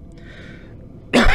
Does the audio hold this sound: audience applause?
no